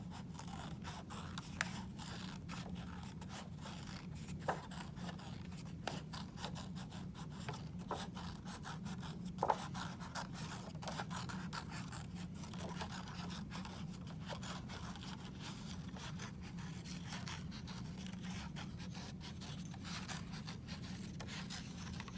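Scissors cutting paper along a drawn spiral line, a faint steady run of soft snips and rustling scrapes with small irregular clicks, close and quiet with no talking.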